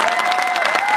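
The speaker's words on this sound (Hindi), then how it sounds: "ये ताली कम है, ये ताली कम है।" An audience at an all-India mushaira poetry gathering in Balapur claps in a brief, dense burst of many hands, with a faint sustained voice or tone running beneath it.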